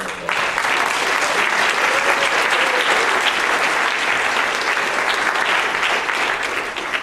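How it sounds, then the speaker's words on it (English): Full audience applause for volunteers at a bike update event, a dense steady wash of many hands clapping that holds loud and even for several seconds. "we thank them with a round of applause"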